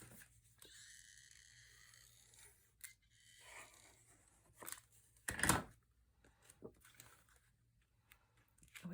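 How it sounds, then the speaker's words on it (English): Scissors cut through patterned paper to open a slash pocket for a shaker tag mini album: a soft rasping snip, then a sharp crisp cut near the middle, with light paper handling before and after and no talk. "I'm going to cut"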